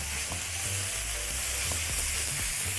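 Peppers go into a hot pan of vegetable shawarma and sizzle loudly, a dense, steady close-up frying hiss with faint stirring scrapes beneath, and no speech.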